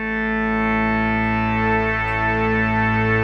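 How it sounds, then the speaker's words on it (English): A sustained, buzzy Arturia PolyBrute synthesizer chord from a standard initialized patch without voice modeling holds steady and loud for a few seconds, with a slight wavering texture and no voices. "when it's just a standard initialized patch through the PolyBrute"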